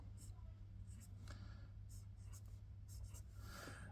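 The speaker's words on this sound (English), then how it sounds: "I have been sitting writing and I've hard started entire letters" Titanium-nib fountain pen writing on paper, soft close scratching strokes in short irregular bursts over a steady low hum.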